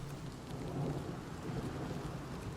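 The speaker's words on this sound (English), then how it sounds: "Sounds like a storm is settling in." Rain and a low thunder rumble in Oblivion Remastered, a dense even wash of falling rain over a muffled deep rumble, fairly quiet and continuous.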